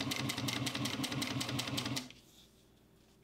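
A Juki 1541s sewing machine runs at a steady rapid stitching rhythm through waterproof canvas, loud and close, then stops abruptly partway through, leaving quiet room tone.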